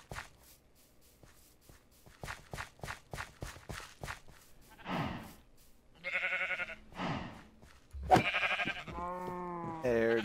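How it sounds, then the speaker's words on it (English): Sheep bleat in the Minecraft video game, a few wavering cries late in the sequence after a run of rhythmic footstep-like shuffling clicks, fairly close and clear with a quiet backdrop. "Oh, here's sheep."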